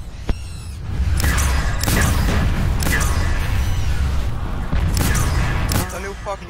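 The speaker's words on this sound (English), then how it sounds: "A little fucking monkey jumped off at my face and blew it up" Monkey bomb explosions in Call of Duty Black Ops Zombies on the Ascension map, heavy booming blasts with loud sustained rumble across most of the clip, mixed with game effects and voices talking.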